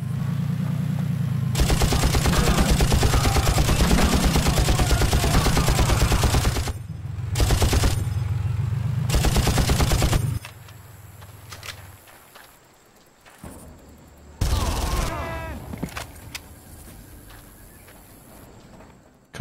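Sustained bursts of rapid automatic gunfire in the Far Cry shooter, loud and close, with short pauses between long volleys and a final shorter burst.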